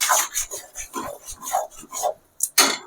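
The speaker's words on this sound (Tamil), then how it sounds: "அப்படியே நல்லா கிண்டி விடுங்க" A spoon stirs gongura garlic thokku in a pan, a series of rhythmic scraping strokes up close, each a short rasp against the pan surface.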